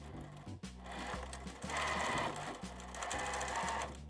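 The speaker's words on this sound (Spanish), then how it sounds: "Y ahora vamos a empezar a coser." A sewing machine stitches a vinyl zippered pencil case, its steady rapid mechanical chatter running close and loud in short bursts with brief pauses between runs.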